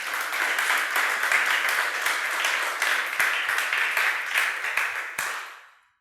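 A church congregation breaks into loud, sustained applause, a dense wash of clapping that carries on steadily for several seconds before trailing off.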